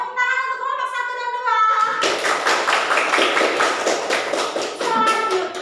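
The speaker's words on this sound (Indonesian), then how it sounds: "Tepuk tangan untuk kelompok 1 dan" A class of schoolchildren claps for a presenting group in the classroom, a close burst of rapid, uneven hand claps lasting a few seconds, with a teacher's voice speaking before and just after.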